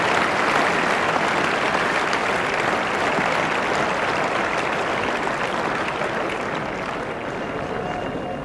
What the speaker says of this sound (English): that news has just been appreciated by a very generous crowd here